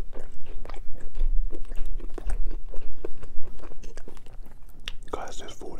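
Close, soft chewing and occasional crunchy bites while someone eats a well-seasoned salmon breakfast, with steady mouth sounds throughout.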